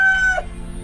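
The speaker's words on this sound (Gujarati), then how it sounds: "તમે બહાર આવો તો હું કરું કુકડે કુક" A rooster gives a single short, close crow that rings out alone and fades within a second.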